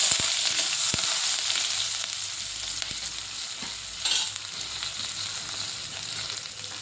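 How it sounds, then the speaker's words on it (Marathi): Curry leaves and chillies dropped into hot oil for a Malvani kulith pithi, giving a steady close sizzle and crackle with a few sharp pops near the start. "कढीपत्ता टाकायचा"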